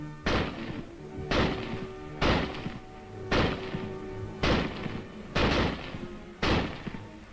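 Springfield rifle firing repeatedly, seven sharp loud reports spaced about one second apart, each with a short ringing decay, no talk.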